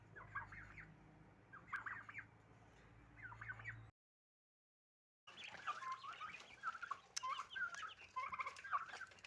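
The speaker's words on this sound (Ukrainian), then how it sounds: "Ну, дивіться, які це отакі наглі індики" Turkeys gobble and chatter in busy, overlapping bursts, close by, with a short silent gap midway before the clamor resumes.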